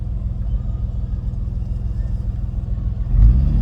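A J-series car engine, set up with idle adjustment and E85 fuel, rumbles low and steady at idle, then swells into a louder rev near the end.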